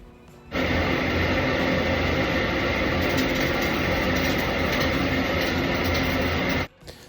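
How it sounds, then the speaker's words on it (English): Welding in a class workshop: a loud, steady, harsh crackling hiss that starts abruptly, holds for about six seconds and cuts off sharply, up close, with no talking. "to give you an idea of what like welding sounds like"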